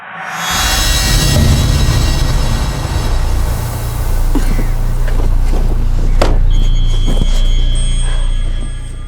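A car coming to a stop in a Rajasthan village, its engine rumbling loud and close throughout with a steady low drone and some brief rattles toward the end.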